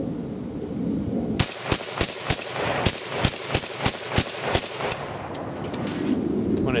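An RP46 machine gun fires a burst of about a dozen loud, sharp shots in a fairly even rhythm, followed by a rushing echo as the firing stops.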